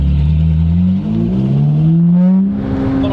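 A modified Japanese kaido racer style Ferrari with a custom exhaust revs hard and close by, its deep engine note climbing and wavering in pitch, loud throughout with a brief dip midway.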